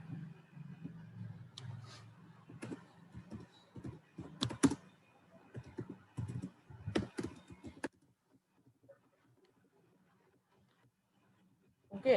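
Code typed in an Oracle PL/SQL editor on a computer keyboard: irregular runs of close key clicks with a few sharper taps, under and between low speech, then a near-silent pause and one last click.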